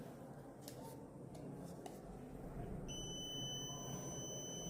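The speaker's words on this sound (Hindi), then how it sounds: "जैसे ही हम इसके ऊपर पानी गिराएंगे और ये लाइट भी जलेगी और उसके साथ अलार्म भी" A rain-water sensor alarm buzzer switches on partway through after a quiet, faintly noisy start, then holds a thin, high, steady electronic buzz to the end at low volume.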